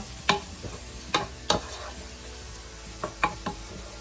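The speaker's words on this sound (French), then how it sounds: "Je vais faire revenir quelques secondes." Spiced gizzards being sautéed in a pan give a faint steady sizzle, broken by a handful of sharp utensil clicks and taps as they are stirred, close up and otherwise quiet.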